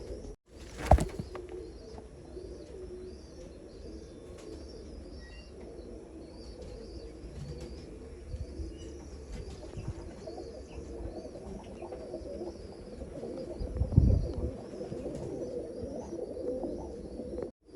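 Soft racing pigeon cooing murmurs steadily in the background alongside faint chirps, with a brief louder rustle or flap near the start and another later.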